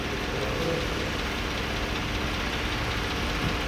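A 2015 Powertrac 445 Load Max tractor engine idles, a steady, loud, even rumble with a faint knocking texture, close by and alone without speech.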